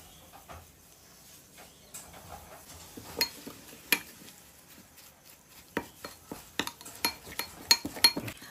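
A spoon stirs and scrapes a honey and yogurt paste in a bowl, giving faint, irregular clinks and taps that grow busier and sharper toward the end, with no talking.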